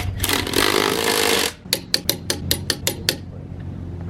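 An impact wrench spins briefly while a wheel goes onto a Mini Cooper S, then a rapid series of about eight sharp metallic rattling bursts follows, close and loud.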